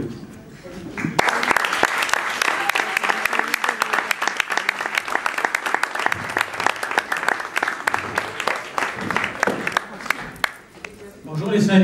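Theatre audience at the Théâtre Gérard Philipe applauding Vieux Kem Paumé, a loud, dense burst of clapping that starts abruptly, holds strong for about ten seconds, then thins out as a voice begins.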